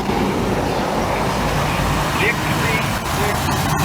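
A loud car pulls away from a 2015 car show doing a burnout, its engine a continuous rough roar amid road and crowd noise, with people talking nearby.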